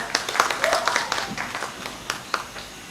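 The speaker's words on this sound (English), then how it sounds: "Give a round of applause." Audience applause greeting the Vice President of DAPD at an evening launch event, a spread of scattered claps that swells and thins over a few seconds, with faint voices mixed in.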